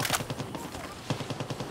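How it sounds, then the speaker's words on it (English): Sharp bursts of gunfire and thudding explosions from mortar fire at the Cabeza Fuel Depot in Far Cry 6, pounding in quick succession for under two seconds with a voice talking over it. "he's using mortar there"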